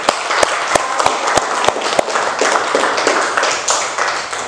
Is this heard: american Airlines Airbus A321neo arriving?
no